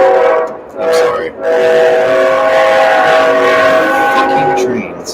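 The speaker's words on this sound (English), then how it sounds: "Fucking trains." A train passes close by, its rumbling wagons and horn-like harmonic tones loud and steady for several seconds, with a brief dip partway through.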